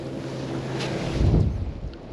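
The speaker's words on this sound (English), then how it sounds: "this wind has probably changed direction" Cold wind blows by a river bend during brown trout fishing in the Falklands, a steady broad rush with a brief gust buffeting the microphone near the end, close and fairly loud, with no talking.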